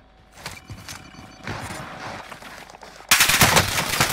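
Gunshots in Call of Duty: Warzone, scattered distant rounds building to a loud, close burst of rapid automatic fire near the end.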